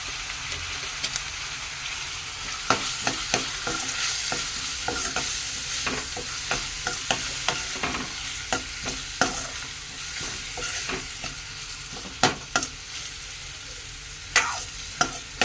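Turmeric frying and being stirred in hot peanut oil for a mutton and cucumber curry, a steady sizzle with repeated scraping and clinking strokes of the spoon against the pan, close and continuous, with no talking.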